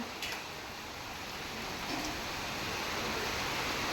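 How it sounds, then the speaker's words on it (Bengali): Rain falling during cyclone Remal, a soft, even hiss of steady rainfall that swells slightly over a few seconds, faint and distant. "বৃষ্টিটা হচ্ছে তো এখন আর হাওয়াটা অতটাও নেই মাঝে মাঝে দিচ্ছে হাওয়া"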